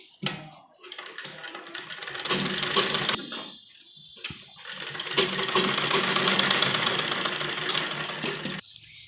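A sewing machine stitches the lining of an embroidered kurti, running in bursts of rapid mechanical whirring with short stops between runs, close and moderately loud.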